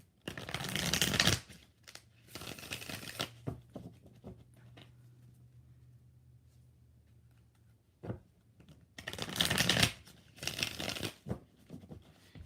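Stiff tarot cards being shuffled in bursts, near and fairly loud, separated by quieter gaps with a faint steady hum.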